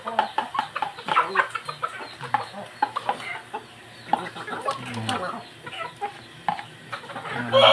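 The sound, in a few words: micro bantam chickens clucking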